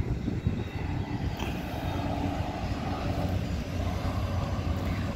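Airliner descending to land at Santos Dumont airport in Rio de Janeiro, a steady distant engine roar with a low rumble that holds for several seconds amid city background noise.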